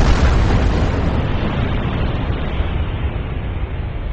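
A deep, roaring star explosion effect, a sustained rumbling blast that starts loud and slowly fades over about four seconds, dense and boomy with no voices.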